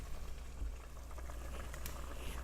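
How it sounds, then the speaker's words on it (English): Vegetable soup simmering in a pot, a quiet continuous bubbling and soft sizzle with faint pops, close and steady with no voices. "Our soup has been simmering for about 20 minutes now."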